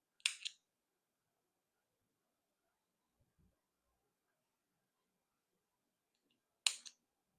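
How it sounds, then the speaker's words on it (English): Scissors snip off extra yarn ends on a small crochet keychain, two crisp isolated cuts several seconds apart, close and quiet against near silence. "Now cut these extra yarns."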